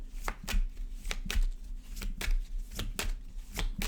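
Tarot cards shuffled by hand in a quiet room, a quick series of soft riffling and tapping bursts repeating at a steady rhythm, close and fairly faint.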